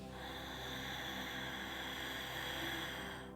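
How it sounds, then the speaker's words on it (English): Steady, hissing ujjayi breath noise drawn through a narrowed throat, an even ocean-like rush that holds for several seconds with no talking. "make a slight adjustment in your throat so you can hear the sound of your breath"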